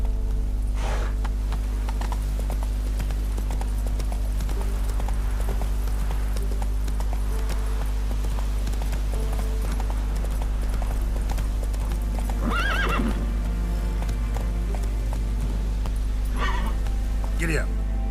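The horse Roach in The Witcher 3 gallops with steady rhythmic hoofbeats over a constant game drone, breaking into a couple of sharp neighs partway through while a voice speaks over the action.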